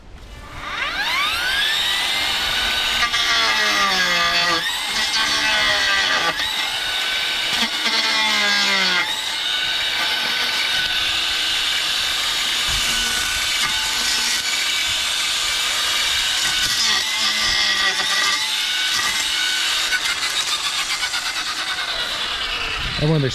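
Ryobi 18V Expand-It brush cutter running outdoors and cutting small young growth, a loud steady high motor whine that dips in pitch each time the line bites into stems.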